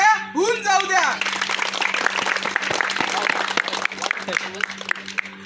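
Villagers applaud after a street play on water conservation, a broad, continuous spread of clapping from a crowd outdoors, with a voice audible at the start and shouts under the clapping.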